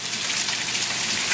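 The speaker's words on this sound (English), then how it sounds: "now the water is going into the sump pump barrier" Water gushes steadily into a sump pump barrier, a loud, continuous rushing hiss with no breaks or voices.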